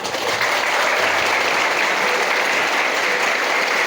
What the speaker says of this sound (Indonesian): Tepuk tangan untuk kita semuanya.